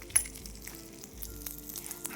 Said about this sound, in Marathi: त्यावर मोहरी, जिरे, कढीपत्ता आणि हिरवी मिरचीची छानशी फोडणी देऊया.